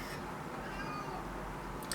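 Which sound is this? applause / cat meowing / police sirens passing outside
cat meowing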